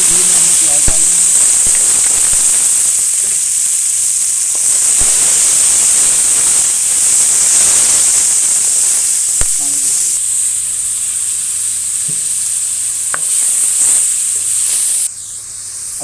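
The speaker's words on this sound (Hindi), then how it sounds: "इसी घी में हमने प्याज डाल देंगे।" Onions frying in hot ghee for a chicken karela curry give a steady, close sizzling hiss that runs the whole time, with occasional light clinks and a brief change near the end.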